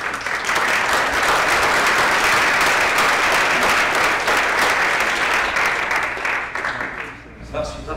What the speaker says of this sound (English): That's round of applause for the little list.